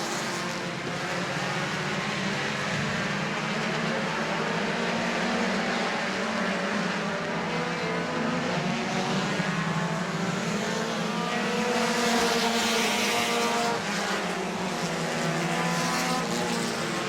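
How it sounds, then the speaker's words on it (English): A pack of sprint cars roars at the green flag on a race restart at the Auburndale Southern Sprint Car Shootout. The loud, sustained engine drone rises and swells steadily as the field accelerates. "Flag is in the air. Bray Gainey with a good start on the outside."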